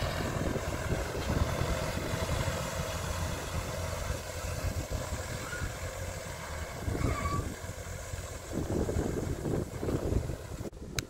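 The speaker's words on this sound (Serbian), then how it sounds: "Vetar zaista duva." Steady wind roars and buffets the microphone continuously, a broad rushing noise with gusty swells, outdoors and close, in a wheat field during crop spraying.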